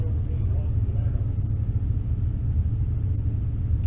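Two Chevrolet Camaro SS cars rumble at a street race, a steady, deep low-pitched drone that holds without a break throughout.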